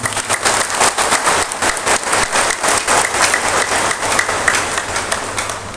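Loud, sustained applause from a large crowd at a gathering of Indonesian Catholic bishops, steady clapping filling the whole stretch with no pauses.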